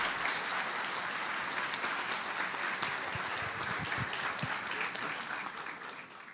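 An auditorium audience at a rural law congress applauds a panelist, a sustained wash of many hands clapping at a fairly soft, even level that tapers slightly toward the end.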